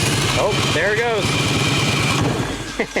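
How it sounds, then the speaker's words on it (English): A motorcycle idles in neutral with a steady low thrum while its faulty starter engages on its own, whirring briefly over the engine before the running note drops and a voice speaks near the end. "that sound was the starter reactivating or activating when it shouldn't."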